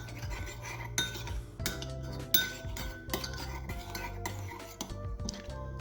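A utensil stirs milk and yogurt starter in a bowl, working out lumps for Cameroonian kossam; steady close clinks and scrapes against the bowl come in irregular bursts, with several sharper knocks, and no talking.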